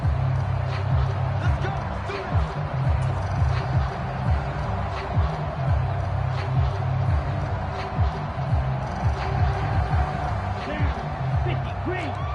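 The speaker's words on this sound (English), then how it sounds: "Plenty of shouts from this crowd as they watch the replay." Crowd in the Madden football video game shouting and cheering during a replay, a steady stadium roar running under continuous play-by-play commentary.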